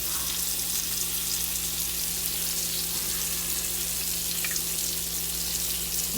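Salmon fillet frying in a hot pan, a steady dense sizzle that holds at an even loudness from start to finish, close by, with no talking.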